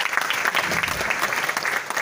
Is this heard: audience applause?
yes